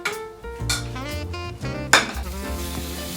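Garlic stir-fries in hot oil in a wok, a crackling sizzle broken by metal spatula scrapes and clinks against the pan, with a sharper clatter near the middle and soft music behind.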